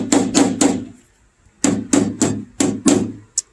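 Hammer blows on a 1962 Mercury Comet steel car door during bodywork, three sharp ringing strikes, a pause, then four more and a final lighter tap, close and loud.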